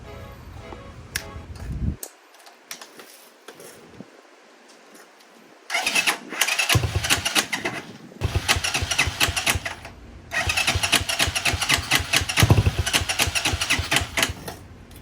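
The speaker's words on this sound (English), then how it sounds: "see what this little China 250 sounds like" A China-made 250cc motorcycle engine, swapped into a Grom, cranks and fires, then runs in loud, choppy revving bursts separated by short gaps after some light clattering and handling noises.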